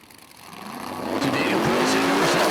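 A drag-racing Mustang with a 427 engine launches into a wheel stand, its engine roar swelling loud and close with a rising, rough snarl, while an announcer talks over it.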